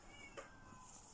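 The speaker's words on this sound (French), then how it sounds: "ça c'est mon chat." A pet cat gives a single short, faint squeaky meow indoors, briefly standing out over a quiet background.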